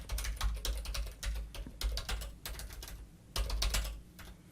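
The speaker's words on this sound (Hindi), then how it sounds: "और उसके बाद यहाँ पे टाइप करते हैं" Rapid keystrokes on a computer keyboard while entering text in a word processor, arriving in close, brisk bursts with short pauses between them, no voices.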